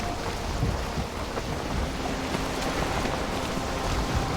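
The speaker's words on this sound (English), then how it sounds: "Oh, we're starting to get a storm." Thunderstorm at sea in Valheim, with heavy rain hissing steadily and low rumbling thunder rolling underneath, loud and continuous throughout with no voices.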